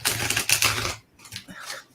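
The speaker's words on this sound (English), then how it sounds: "my cards don't want to shuffle" Playing cards being shuffled by hand, a quick papery riffle of fluttering clicks close by, then a quieter second attempt after a brief pause.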